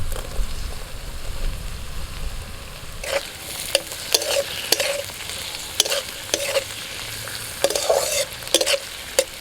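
Onion, green chili and tomato frying in a pan, a low sizzle under repeated sharp scraping strokes of a spatula stirring in irregular bursts.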